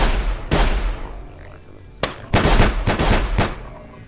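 Video-game gunfire in a horror game, with sharp broadband shots at irregular intervals, one standing alone and then a dense burst of several rapid shots, loud and close over a low rumbling background with faint speech.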